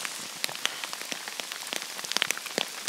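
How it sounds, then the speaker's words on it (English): Hail mixed with rain falls on a mountain trail, a dense patter of small sharp ticks and taps scattered irregularly across the surface, steady and fairly close with no voices. "It's actually hailing."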